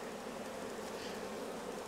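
Honey bees buzzing steadily around an open hive during a honey harvest, a dense, continuous close drone with no pauses and no other sounds.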